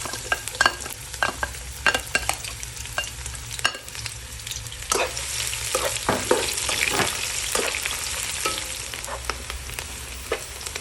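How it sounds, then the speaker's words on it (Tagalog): Garlic and onion sauté in cooking oil, a busy crackling sizzle with frequent spatula scrapes and knocks against the pan, loud and close throughout. "Maggisa muna tayo. Naglagay tayo ng mantika. And then, lagay na natin yung ating bawang at sibuyas."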